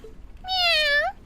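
A single drawn-out meow from a cat in the video game Trails of Cold Steel, clear and fairly loud with a rising, whiny tone.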